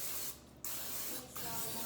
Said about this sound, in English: I'm just using olive oil cooking spray.